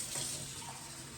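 Warm water poured into a bowl for sourdough, a brief steady splashing stream, close and fairly soft.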